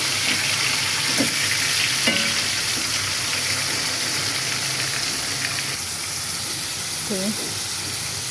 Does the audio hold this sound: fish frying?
yes